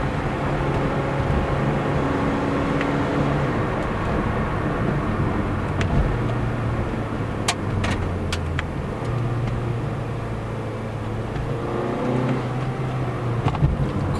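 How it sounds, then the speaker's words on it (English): A Mazda 2 car being driven briskly, its engine drone and road noise steady and close from inside the cabin, with a few faint clicks and no talking. "Quite a peppy little car"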